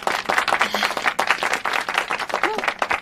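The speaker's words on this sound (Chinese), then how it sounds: "来，鼓掌。" Applause in an office gathering, a small group clapping quickly and unevenly at close range, with faint voices mixed in.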